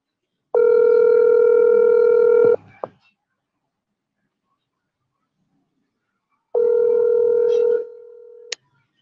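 Call tones from a live talk-radio phone line: two long, loud steady multi-tone bursts a few seconds apart, separated by silence, with a brief click at each end.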